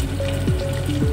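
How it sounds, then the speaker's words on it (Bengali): Dry red chilies, bay leaves and cumin seeds sizzling in hot oil for a Bengali potato-cauliflower khichuri, a close, continuous frying hiss with a few faint tonal squeaks and no talking. "এই তেলের ভিতরে শুকনো লঙ্কা দেব, দুটো তেজপাতা দেব, জিরে দেব"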